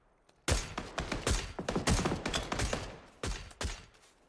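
Rapid bursts of rifle fire from an SLR in PUBG, a run of sharp, loud shots in quick irregular succession with brief pauses and a final pair of cracks.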